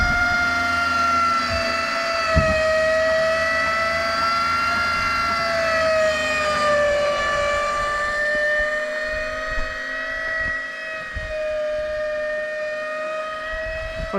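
Electric actuator on a DIY rooftop tent rack raising the tent, a continuous loud whining motor drone with steady harmonic tones that dip slightly in pitch midway, droning on with faint clunks underneath.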